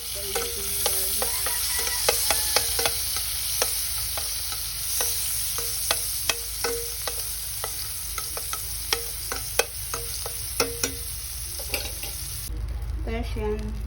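Garlic fries in a pan with steady sizzling, punctuated by frequent sharp scrapes and clinks of stirring throughout, ahead of making garlic butter chicken wings.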